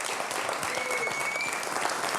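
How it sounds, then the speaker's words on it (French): Audience applause at a French spoken-word talent show, steady dense clapping from a crowd throughout, fairly loud and unbroken with no talk over it. "On peut l'applaudir encore très fort."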